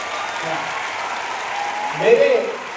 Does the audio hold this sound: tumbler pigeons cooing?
no